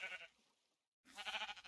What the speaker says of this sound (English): then I will shear the sheep